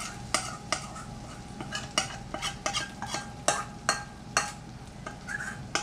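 Mexican cornbread batter sizzles in a hot skillet, a soft steady hiss under frequent sharp scraping and tapping from a spoon or utensil against the pan.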